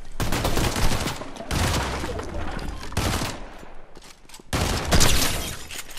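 Rapid gunfire from the video game Fortnite comes in dense, loud bursts of overlapping shots separated by brief lulls, close and harsh, with no speech over it.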